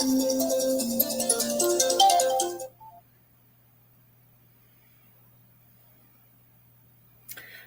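A phone notification chime plays as a bright, melodic tone sequence for nearly three seconds, then stops abruptly into near silence with a faint hum, followed by a short blip at the very end.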